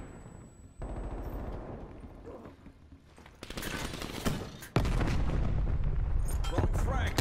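Gunfire in a shooter video game: loud, dense bursts and rattling volleys that build and then hold at a heavy, continuous roar near the end.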